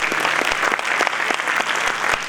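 Audience applause at a school winter band concert, a steady dense clapping from a crowd that fills the whole stretch without pause.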